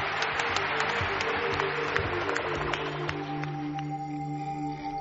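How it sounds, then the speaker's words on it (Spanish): Studio audience applause on a Spanish radio programme, a steady wash of many clapping hands at moderate level with sustained tones underneath, running the full length of the moment. "Mariano, nuestro aplauso."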